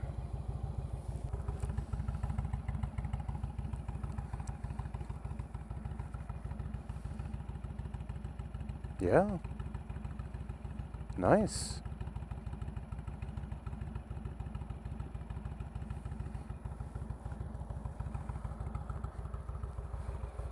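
Indian motorcycle fitted with a Stage 1 exhaust idles in a steady, low, even rumble from nearby, broken by two brief clunks, with a short spoken remark over it.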